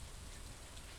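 Rain falls steadily in the farming game Stardew Valley, a soft, even hiss of drops heard alone for a brief moment, faint and unbroken.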